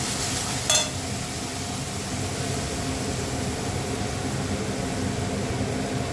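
Spices are sautéed for an egg and potato curry, giving a steady, close sizzle with one brief utensil clatter near the start.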